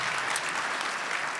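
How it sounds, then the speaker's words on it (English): An audience at a scholarship awards celebration applauds the students, with dense, steady clapping that fills the whole moment at a moderate distance. "give them a round of applause for exceeding"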